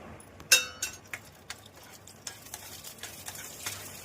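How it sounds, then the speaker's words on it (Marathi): Ghee-fried dry fruits in a small tempering pan on a gas stove give a faint, soft sizzle, broken by scattered light clinks and scrapes of stirring, with one sharper knock near the start. "आता मी ह्याच्यामध्ये तूप घालते आणि ड्रायफ्रुट्स फ्राय करून घेते।"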